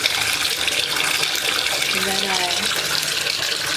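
Warm water runs from a tap in a bathroom sink as a Lush product is put under the flow, a steady broadband rush filling the whole clip while a person speaks briefly over it.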